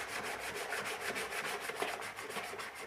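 Filler on a Nova car's AC cover is sanded by hand, a steady, close, rhythmic back-and-forth rasping that continues throughout with no talking.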